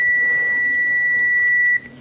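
A UNI-T UT203 digital clamp meter gives a steady, continuous high continuity beep while its probes touch both ends of the same-colour wire in a cable, holding for nearly two seconds before cutting off, with no talking.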